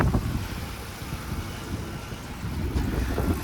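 A Ford F150 with a 5.4 engine runs in a steady, low, rumbling idle that is close and moderately loud, holding an even tone with no talking.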